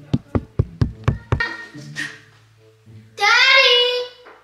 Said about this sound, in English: I hear knocking from two different places